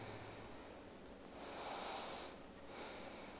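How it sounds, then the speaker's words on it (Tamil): A slow yoga exhale during a breathing exercise for lowering blood pressure, heard as soft airy breath swells that rise and fade twice over a few seconds, faint and close with no talk. "மிக மெதுவாக மூச்சை வெளியிடுங்க."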